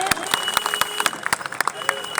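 A crowd at a political rally applauding steadily, many hands clapping in a dense, continuous patter with sharper individual claps standing out.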